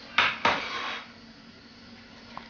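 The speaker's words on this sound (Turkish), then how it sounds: "Bir porselen tabak alıyoruz." A porcelain plate handled near a pot of apricot jam, two close bright clinks in quick succession followed by a fading ring and a faint tap later, no talk.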